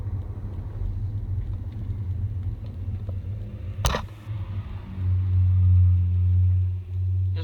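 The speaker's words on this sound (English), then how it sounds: "There's more traffic here than usual outside my security gate." Road traffic passing outside a residential security gate: a steady low rumble of car engines and tyres, with a short sharp click near the middle and a louder, heavier vehicle rumble swelling in the last few seconds, no talking.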